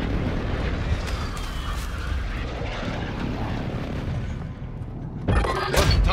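In Call of Duty: Modern Warfare II, a called-in airstrike brings a loud roaring aircraft pass with deep rumbling blasts, then a sharp burst near the end.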